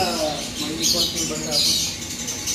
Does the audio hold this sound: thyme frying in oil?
no